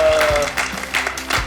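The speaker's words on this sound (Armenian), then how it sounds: "Ծափարենք Անդոյին" A studio audience claps in a short, lively burst at a comedy quiz show, with a voice briefly heard alongside the applause.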